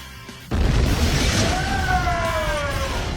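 A sudden loud boom from explosives set off in an attempt to make popcorn, an abrupt blast followed by a sustained roaring wash with a faint rising-and-falling tonal whine over it.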